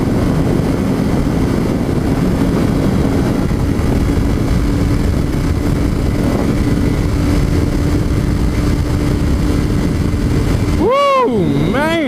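A 2017 Honda CBR1000RR being ridden, its engine a steady loud roar with constant broadband wind noise throughout, ending in a rising and falling rev sweep near the close.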